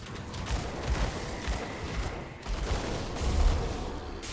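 Dual pistols firing during Grim Dawn combat at ultimate difficulty, a dense steady stream of rapid shots with thudding impacts that rolls on with little pause, fairly loud throughout.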